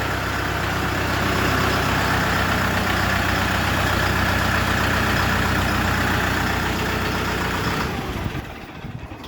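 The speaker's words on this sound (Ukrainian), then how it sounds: "Трактор на 40 кінських сил з реверсом." A 40-horsepower Dongfeng 404 mini tractor's small diesel engine idles steadily with a low, even chugging rumble, close and loud, then cuts off near the end, leaving a fading tail.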